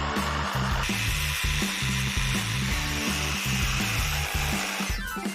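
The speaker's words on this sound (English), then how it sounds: "Jigsaw time!" A jigsaw cuts through wood to open a window in a small home-built play castle, a steady loud buzzing with a pulsing reciprocating rhythm that runs continuously and stops near the end.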